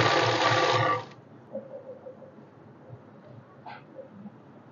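A sewing machine stitches a salwar belt in one short, loud whirring burst of about a second, then stops, leaving near silence with faint room noise.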